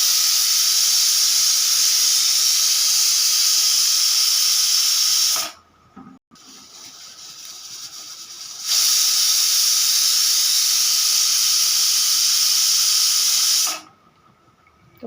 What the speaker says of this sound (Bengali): তো 5টা আমার সিটি হয়ে গেছে